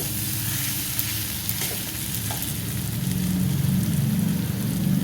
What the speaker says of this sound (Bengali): এবার এটাকে ভালো করে কষাবো যতক্ষণ না মশলাটা থেকে তেল ছেড়ে যাচ্ছে